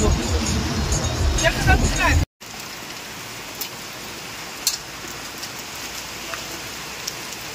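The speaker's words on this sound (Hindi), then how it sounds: "বৃষ্টি পড়তেছে।" Steady rain falls on a trip from Assam to Bhutan, a dense, even hiss filling the background after a short burst of louder voices and movement, with a brief dropout partway through.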